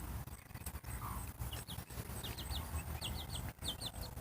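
Chickens cluck softly at a distance amid a dense outdoor noise bed, with short chirpy calls scattered throughout the few seconds.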